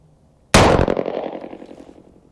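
A single loud shot from an American Derringer .38 Special pistol, a sharp close crack followed by a ringing, echoing decay that fades over about two seconds.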